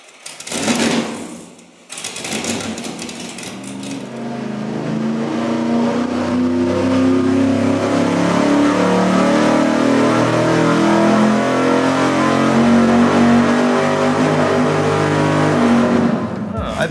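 Carbureted V8-style engine on a dynamometer, opening with a couple of brief blips and then holding a loud, steady, pulsing drone with a throbbing low rumble that runs nearly the whole time, with voices faintly under it.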